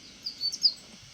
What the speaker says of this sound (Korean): 날라다니는 저 새가 지저귀는 소리인데